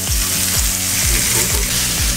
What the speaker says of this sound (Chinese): 煎肉片